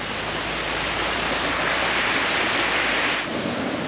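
Spring water pours down a hillside toward the road, a dense, steady rushing wash that stays close and unbroken throughout with no voices.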